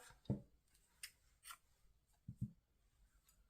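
Scissors snip off crochet yarn in a few quiet, close cuts, with small handling rustles between them and no voice.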